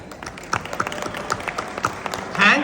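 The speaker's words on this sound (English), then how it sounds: "Warm applause to Max Life." Audience applause at a company celebration event, a steady patter of many hands clapping at moderate volume, with a louder swell near the end.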